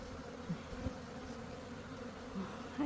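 Honeybees buzz around their hive on a fine day, a faint, low, continuous hum with a few slightly louder passes as single bees fly close.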